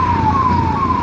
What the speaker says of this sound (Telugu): అంబులెన్స్ ఎప్పుడైనా సరే మీ వెనకుంది అంటే ఖచ్చితంగా ఫస్ట్ దానికి రూట్ ఇచ్చేసి మనం దాని వెనకాల వెళ్ళాలి.